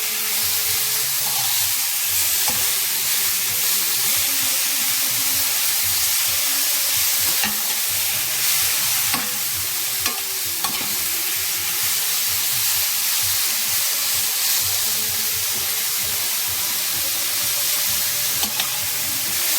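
Squash noodles sauté in a hot pan with vegetables, giving a steady sizzle with stirring scrapes and occasional clacks of a utensil throughout, no voices.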